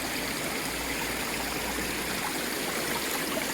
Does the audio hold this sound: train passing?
no